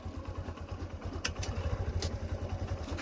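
A Sonalika tractor engine idles close by at a village farm with a low, steady pulsing chug and faint clatter, running alone without talk.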